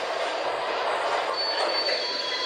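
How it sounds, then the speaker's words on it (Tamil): Mumbai local train running in a train simulator game, a steady broadband rumble of wheels on rails with a thin high squeal rising toward the end, close and continuous with no talk. "இது வந்து பார்த்தீங்கன்னா மும்பை லோக்கல் ட்ரெயின்."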